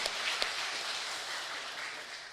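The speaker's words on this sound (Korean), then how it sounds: "우리 찬양대에서 박수 한번 드리도록 하겠습니다." A church congregation applauding the choir during a Sunday service, a steady wash of clapping from many hands that holds level for a couple of seconds with no talk.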